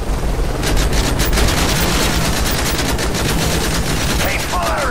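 Sustained automatic gunfire aimed at a helicopter in the Call of Duty Modern Warfare 3 campaign, loud rapid bursts over a roaring rotor-like background, with a faint voice surfacing near the end.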